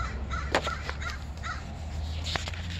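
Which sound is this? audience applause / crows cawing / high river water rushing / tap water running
crows cawing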